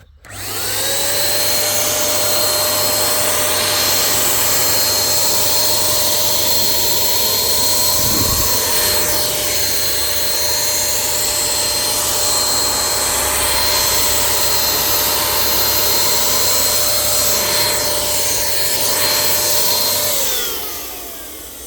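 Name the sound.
WAGNER W510 paint spray gun spraying oil paint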